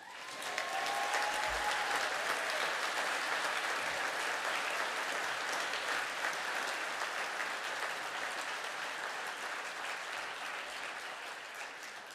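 Graduating class and audience clapping together at a graduation ceremony, a dense, even round of applause that holds steady at full strength across the whole stretch, with no voices over it.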